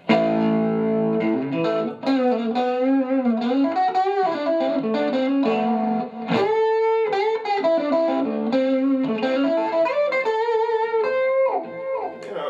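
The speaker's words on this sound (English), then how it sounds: "I'll just give it a, a, a delay and chorus and, and distortion" A heavily distorted electric guitar through a V8 T.A.N.K. 20W amplifier with delay and chorus plays a winding melodic line, its notes smeared by echoing repeats and a shimmering, wavering chorus, loud and unbroken.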